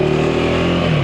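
A 2025 KTM 390 Enduro R single-cylinder motorcycle engine running loud and close, a steady buzzing drone with a pitch that slides slightly downward as revs ease off.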